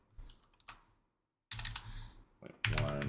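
Typing on a computer keyboard while entering values in Unreal Engine 5: a few short bursts of key clicks, close and crisp, separated by brief silences.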